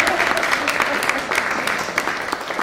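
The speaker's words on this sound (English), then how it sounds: "Well, you should clap after that." Audience applause at an international academic seminar after a talk, moderate clapping with some voices mixed in, fairly even throughout.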